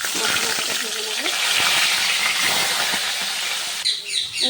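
Spices fry in hot oil, a loud continuous hissing sizzle close up that eases and breaks into bursts near the end, with faint voices in the background.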